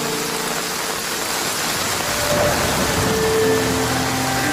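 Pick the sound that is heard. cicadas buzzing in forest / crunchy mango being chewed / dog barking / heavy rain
heavy rain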